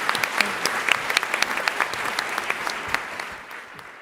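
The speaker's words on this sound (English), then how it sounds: "Give them a Thank round of you. applause." Audience applause at a startup pitch competition final, a steady wash of many hands clapping that stays loud and dense throughout before tapering slightly at the end.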